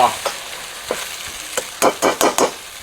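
Beef with Chinese kale stir-fried in a hot pan, a steady sizzle broken by sharp scraping and tossing strokes of a spatula, speeding into quick clustered bursts near the end.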